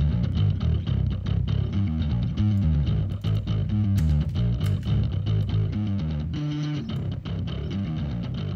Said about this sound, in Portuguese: Colocar uma distorção no grave só pra gente sacar